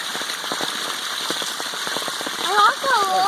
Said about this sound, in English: Straight up pouring rain.